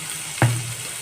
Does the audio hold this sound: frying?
yes